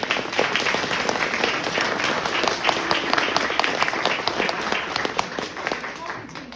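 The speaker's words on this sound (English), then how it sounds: "Let's give him a little round of applause." An audience at a Veterans Day program applauds in a steady wash of claps that lasts throughout, with voices mixed in underneath.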